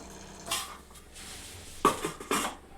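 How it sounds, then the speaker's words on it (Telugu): A metal lid is set down on a pan of Telangana-style uppudu pindi, a rice-flour dish, on the stove: a few short clinks and clatters, the sharpest two close together near the end, in an otherwise quiet kitchen. "ఈ విధంగా ఇప్పుడు ఒకసారి మూత పెట్టుకోవడం దీని మీద"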